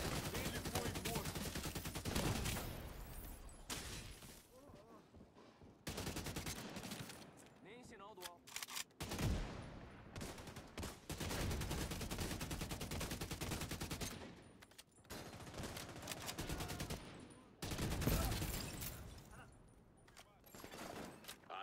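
Gunfire in the shooter video game The Division 2, with dense bursts of automatic rifle fire and rapid shots in loud sustained volleys broken by short pauses, alongside game sounds.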